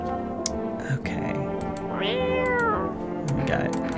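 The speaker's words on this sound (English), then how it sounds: "We got cat." A cat meows in the video game No, I'm Not a Human, one rising-and-falling call in the middle over a steady tonal music bed, with a voice talking briefly.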